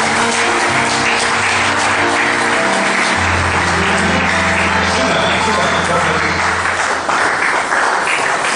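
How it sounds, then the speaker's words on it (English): A church congregation at a worship service claps loudly and continuously over a low, sustained tone, the dense clapping holding steady throughout. "Give the Lord a clap for Him"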